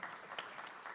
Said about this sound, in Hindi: जोरदार तालियां भूषण जी के लिए हो जाए एक बार